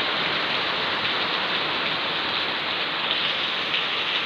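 Heavy rain falls at a Kathiawad dairy farm where cows are kept, a loud, even rush of countless drops hitting surfaces close by, continuous with no voices.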